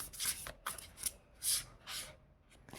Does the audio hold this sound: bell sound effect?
no